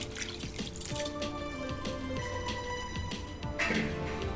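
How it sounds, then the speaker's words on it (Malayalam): Water pours close up into a pot of crab curry with jackfruit seeds and drumsticks, a steady splashing trickle that runs for a few seconds with no speech. "ഇതിലേക്ക് നമുക്ക് കുറച്ചുകൂടി വെള്ളം ഒഴിച്ചു കൊടുക്കാം."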